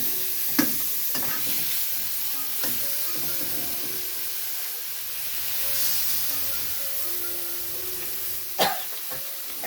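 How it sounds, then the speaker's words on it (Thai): Beef being stir-fried with red curry paste in a pan gives a steady hissing sizzle throughout, broken by a few sharp spatula scrapes and clanks, near and fairly loud, with no voices. "ผัดให้เข้ากับเครื่องที่เราเตรียมไว้นะครับ"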